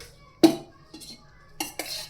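Metal clatter from a kadai being set down and handled on the stove while ghee heats for dudhi halwa: one sharp clank, then a few lighter clinks and taps, near and fairly quiet.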